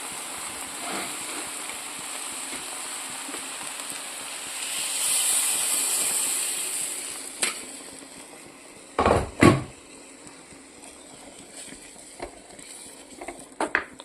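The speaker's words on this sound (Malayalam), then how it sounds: "അപ്പോൾ ഇതെല്ലാം ഒന്ന് വഴന്ന് കിട്ടിയിട്ട് നമുക്ക് വെള്ളം ഒഴിക്കാം." Water poured into a pan of frying mushroom and taro curry sets off a swelling hiss of steam that fades. Several sharp knocks and clatters from the pan follow against a quiet background hum.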